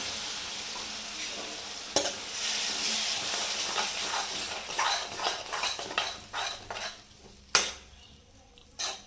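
A spoon stirs curd into paneer bhurji masala in a pan, giving a steady soft hiss broken by scraping strokes and sharp clinks of utensil on metal, ending with a few louder knocks.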